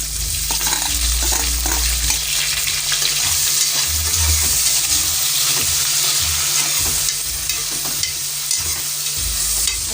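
Tomato with curry leaves and bay leaf sautés in a pan for veg pulao, a loud continuous sizzle and fry with intermittent stirring throughout.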